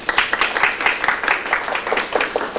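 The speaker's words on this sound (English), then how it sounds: "give him a round of applause" An audience in a resume-writing class session claps in a short, close round, with individual hand claps clearly separable in an uneven rhythm and no talking over it.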